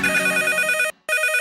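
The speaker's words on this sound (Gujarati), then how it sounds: "ફોન આવ્યો" Telephone bell rings loudly and steadily with a bright electronic trill, breaking off briefly near the end before starting again, with no voices over it.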